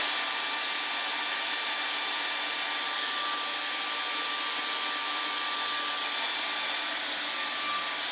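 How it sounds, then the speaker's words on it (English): A hair dryer blowing on chalk paint, a loud, constant whooshing whine with a steady pitch and no pauses. "dry this real quickly with my hair dryer"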